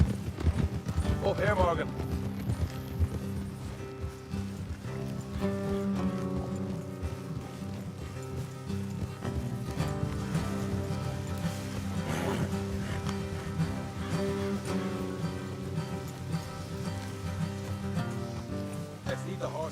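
Horse hooves clip-clop steadily through a ride in the Red Dead Redemption 2 Wild West, running under game music and voices talking throughout.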